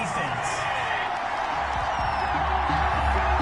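A packed stadium crowd at an NFL game between the Dallas Cowboys and Atlanta Falcons roars in a steady, dense wash of disapproval after a penalty flag, with a commentator talking over it.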